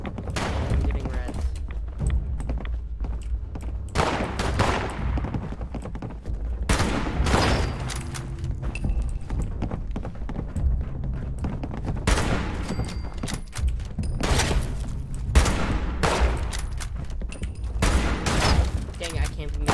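Rapid bursts of gunfire from the video game Fallout 76 crack and thump again and again in clustered volleys, loud and close, while a player talks between shots.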